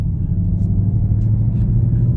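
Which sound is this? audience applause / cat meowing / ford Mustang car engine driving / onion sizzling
ford Mustang car engine driving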